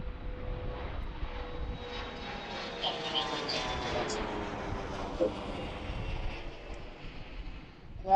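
An airliner lands at Washington Reagan National Airport, its engine drone and whine carrying steadily at moderate distance with a faint voice heard underneath.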